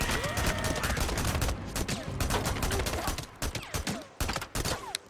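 Dense gunfire rattles on in the post-apocalyptic video game Days Gone during a horde fight, a sustained loud barrage of rapid shots that thins into separate bursts toward the end.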